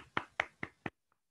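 Applause at a Toastmasters meeting comes through as four sharp, evenly spaced hand claps, close and distinct, followed by near silence.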